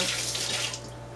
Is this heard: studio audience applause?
no